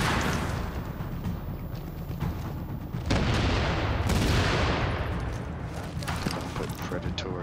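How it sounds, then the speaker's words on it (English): A deployed turret blowing up in The Division, a dense, loud burst of explosive blasts and crackling debris with heavy booms, continuing through several seconds of combat noise. "I'm blowing up my turret."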